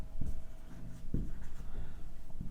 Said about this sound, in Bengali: আমি শুধু লিখছি